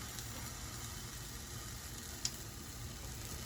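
Banana walnut pancake sizzling steadily in a buttered pan just after being flipped, a continuous soft frying hiss with a faint brief click partway through, no voices.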